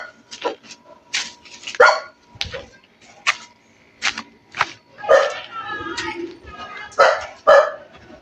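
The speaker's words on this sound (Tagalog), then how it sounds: "Yun, yung aso tumatawol." A dog barking repeatedly outdoors near a mango tree, a string of sharp close barks and yips with short gaps between them and a brief whine in the middle.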